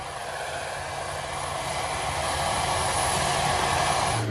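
A Conair prison transport jet cruising at 31,000 feet, its steady broadband engine roar filling the cabin, loud and unbroken and slowly swelling slightly.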